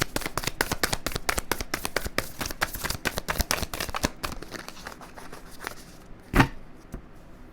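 Cards are shuffled in quick, rapid riffling bursts that patter steadily for several seconds, then slow to a few scattered snaps and a louder thump.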